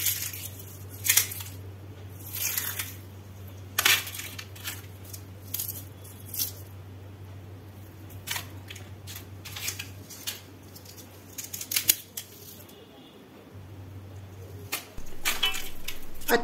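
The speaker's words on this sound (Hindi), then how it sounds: "मैं आपको इसकी आवाज़ सुनाती हूँ तोड़कर।" Crispy, flaky multilayered khari pastry snaps and crackles as it is broken apart by hand, close by, in a series of sharp crunchy bursts separated by short quiet pauses.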